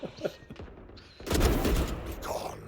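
Gunfire in the Valorant video game: a few quick shots early on, then a denser burst of rapid fire with booming thuds that carries on to the end, moderately quiet.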